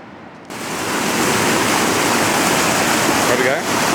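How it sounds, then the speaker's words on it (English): Aurora Creek rushes below the campsite as a broad, loud steady roar of water. It swells in after a quiet start and continues without a break, close and constant. "So that's Aurora Creek. You can hear racing down there."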